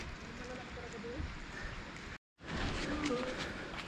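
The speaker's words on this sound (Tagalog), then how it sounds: "Wala, mas lalong lumakas yung ulan." Steady, heavy rain falling during a long motorcycle ride from Manila to Bicol, a dense continuous hiss heard up close, briefly cut off by a sudden short dropout before returning just as strong.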